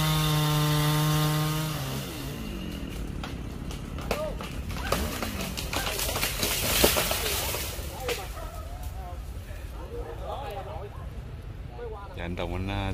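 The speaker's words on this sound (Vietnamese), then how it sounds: "Bên kia thì anh Trân anh cưa cây cắp" A chainsaw drones steadily, dipping and surging in pitch as it cuts a giant Melaleuca tree, with voices talking over it.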